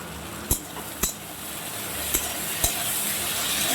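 A pan of frying potatoes with salt gets stirred, with a few sharp metallic clinks of the spoon against the pan spaced apart over a low, steady sizzle.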